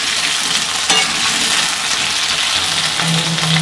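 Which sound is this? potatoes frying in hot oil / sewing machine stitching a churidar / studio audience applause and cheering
potatoes frying in hot oil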